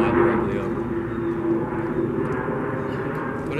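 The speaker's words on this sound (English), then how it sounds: "The plane was flying directly over." A propeller or jet airplane passing directly overhead above a duck hunting spot, a steady loud droning roar that holds through the whole stretch with no talk.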